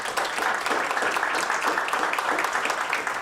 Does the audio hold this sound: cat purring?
no